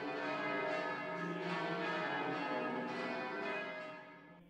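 Large church bells of a Montreal basilica, including a heavy bourdon bell, ringing in a dense, overlapping peal that holds steady and then fades toward the end, resonant and moderately distant, with no voices.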